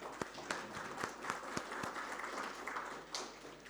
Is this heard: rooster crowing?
no